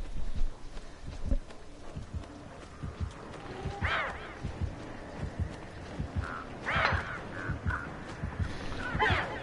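Crows caw in the Dead by Daylight video game, several harsh calls scattered over a rhythmic thumping background of footsteps and game ambience, mid-distance and moderately loud, with no talking over them.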